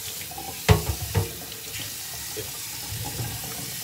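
Tap water runs steadily into a kitchen sink or pot for homemade tea, a continuous hiss with a couple of louder splashing knocks near the start and a brief spoken word.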